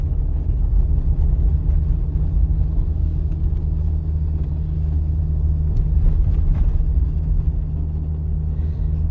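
A car drives along a road during a driving lesson, giving a steady low engine rumble and road noise from inside the cabin that stays constant throughout, with no talking.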